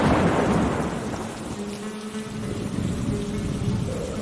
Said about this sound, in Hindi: उस रात को एक तूफान आया।